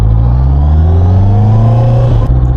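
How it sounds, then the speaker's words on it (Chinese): A 2025 QJMotor RACE 600RS sportbike engine revs hard and steadily climbs in pitch, loud and close, with no pause for the whole stretch. "我就是告诉你这个油门是大概一个什么样的感觉"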